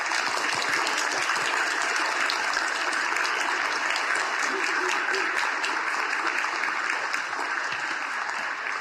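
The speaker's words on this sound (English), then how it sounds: "Give him a round of applause." A church congregation gives a round of applause for a priest, dense continuous clapping filling the room at a steady level, with faint voices mixed into the crowd noise.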